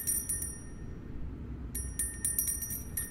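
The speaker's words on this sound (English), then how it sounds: "there's a nice little bell. And when you hit it, it's going to sound something like this." A bright notification bell chimes in a few quick rings, pauses, then rings again in a rapid cluster over a steady low rumble, clear and alone with no voices.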